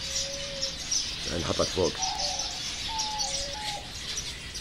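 Pigeons released inside a bird reserve, with short cooing calls and chirps and a brief flutter of wings, while someone speaks over the birds outdoors.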